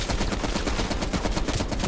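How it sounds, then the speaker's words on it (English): Rapid, continuous automatic gunfire in Call of Duty: Black Ops Cold War, aimed at a statue in a compound. The shots form a loud, dense, unbroken volley with no voices. "Oh, I'm shooting his statue."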